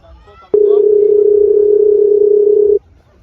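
A telephone dial tone sounds while a call is being placed: one steady, loud, unbroken tone lasting about two seconds, with nothing else around it.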